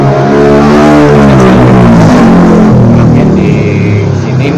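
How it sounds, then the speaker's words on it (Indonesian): Motor vehicles passing close along a roadside street outside a shop, a loud engine drone that swells and shifts in pitch as traffic goes by, filling the whole stretch. "kendaraan yang lewat, karena kita ini di tokonya di pinggir jalan"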